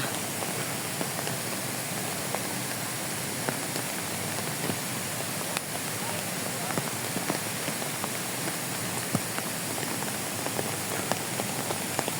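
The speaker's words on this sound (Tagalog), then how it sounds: "Umulan na naman mga kapangyaw." Rain falls steadily at a zoological and botanical garden in Hong Kong, a dense, even patter of drops on surfaces throughout, with occasional sharper close drips and no clear talk.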